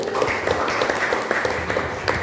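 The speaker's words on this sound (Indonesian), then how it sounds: "tepuk tangan buat dia dulu" Classroom applause for a student during a lesson, a short burst of scattered clapping from a small group of students with irregular taps, fairly close.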